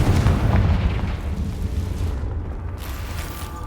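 A Confringo fire spell bursts in Hogwarts Legacy, a loud, dense rumbling blast that rolls on without pause, heavy in the low end and slowly easing over a few seconds.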